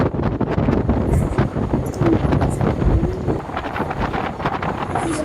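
Strong sea wind buffets the microphone at a seaside Shiva temple under light drizzle, a continuous loud rushing roar with gusty swells and no speech.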